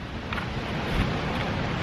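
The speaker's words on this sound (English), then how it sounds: "I mean, it's super windy right now." Strong gusty wind blowing across a house roof right after rain, a steady loud broadband rush buffeting the microphone with no pauses.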